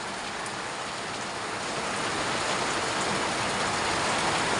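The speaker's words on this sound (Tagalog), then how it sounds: "There's a very strong heavy downfall of rain here in Calabarzon." Very heavy rain pouring down in Calabarzon, Philippines, a dense, steady roar of water that grows slightly louder throughout, with no voices.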